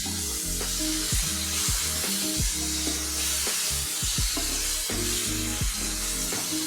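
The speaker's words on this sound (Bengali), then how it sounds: "এখন আমি তাতে দিয়ে দেবো এই যে মাংস, মটনটা।" Boneless mutton with a little fat sizzles and fries loudly in a hot pan for mutton dal, with steady crackling and hiss and occasional stirring scrapes, close up and with no talking.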